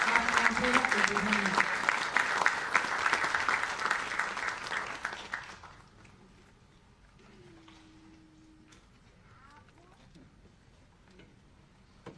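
Audience applause welcoming Chief Minister Bhupendrabhai Patel at a hospital event: loud, dense clapping from a large crowd for about five seconds, then fading out, leaving a quiet room with faint murmurs and scattered small sounds.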